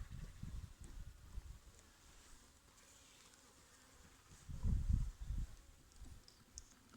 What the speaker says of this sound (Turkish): Arı çünkü uyanmış.